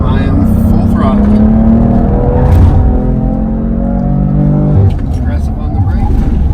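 A BMW driven hard on a track at a performance driving school, engine roaring loud and close as it climbs through revs at full throttle, with a shift and renewed pull, while someone talks over it.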